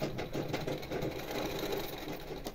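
Sewing machine running steadily while stitching a fabric hip belt, a continuous close mechanical whir with a fast needle rhythm and no pauses.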